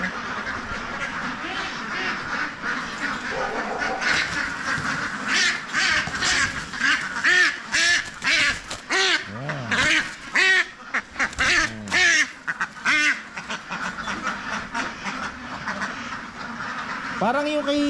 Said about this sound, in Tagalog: Daming itik oh.